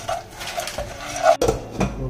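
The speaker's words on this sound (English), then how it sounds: "Stir for a bit." Popcorn kernels stirred with sugar in a pot, a close clatter and scrape of utensil against metal with light rattling taps over a couple of seconds.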